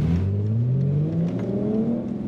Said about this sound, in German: Das ist eine Auspuffanlage, die hört sich schon nicht serienmäßig an.